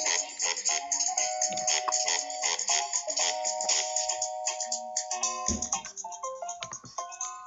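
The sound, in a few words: a song playing from a recording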